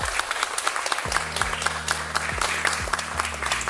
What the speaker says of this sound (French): Moi, j'applaudis.